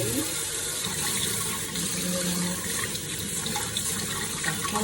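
Cold tap water gushes steadily into a kitchen sink over cooked glass noodles for vegan japchae, a continuous close, broadband rush with no talking.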